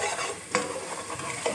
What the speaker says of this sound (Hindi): अब इसको हम अच्छी तरह से भून लेंगे।